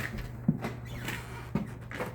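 A door being opened and closed during a walkthrough inspection of a rental property, with two short knocks or clunks about a second apart against a quiet room hum.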